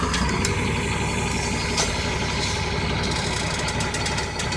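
John Deere 4055 tractor engine running while pulling a 1590 drill through a field, a steady close diesel rumble with light knocking and occasional higher mechanical squeaks and clanks over it.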